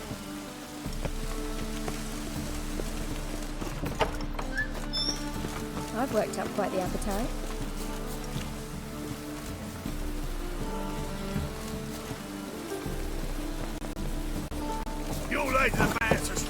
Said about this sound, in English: Must be mad running around in this rain.